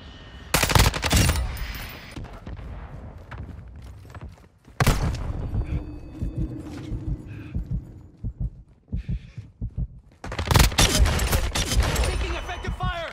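Gunfire in a military shooter game: loud bursts of rapid automatic fire in several clusters, with sharp single shots and mechanical clatter between them, and brief radio-style voice chatter in the quieter stretches.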